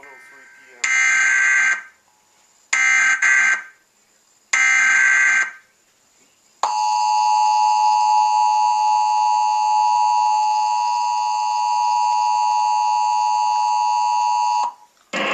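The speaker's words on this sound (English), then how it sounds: "This is a test of the emergency alert system." An emergency alert system test: three loud harsh buzzing bursts separated by silences, then a long steady two-tone attention signal held for about eight seconds before cutting off abruptly, loud and clean.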